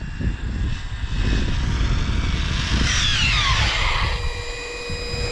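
An Arrma RC car on a speed run, its electric motor whining loudly and close, then rising to a sweeping pitch as it passes before slowing under the handbrake, no voices.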